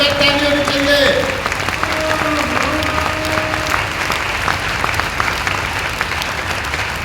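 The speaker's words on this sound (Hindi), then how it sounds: "एक बार जोरदार शानदार जबरदस्त ताली होनी चाहिए।" A hall audience at a business motivational event breaks into loud, sustained clapping that fills the whole stretch, with a voice calling out briefly over the start.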